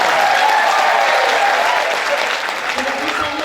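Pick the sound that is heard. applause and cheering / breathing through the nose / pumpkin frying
applause and cheering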